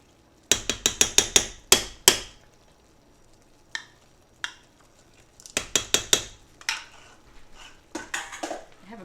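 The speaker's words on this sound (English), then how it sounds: "I have a bad habit of pounding my utensils on the edge of my bowls and pans" Metal utensils clank sharply against the rim of a pan in quick rapid bursts of taps while making snickerdoodle apple cobbler, loud and close, with scattered single knocks between.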